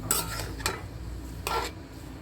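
Taro frying in a pan with onions, a faint sizzle under three brief scraping stirs of a utensil against the pan, close and without speech.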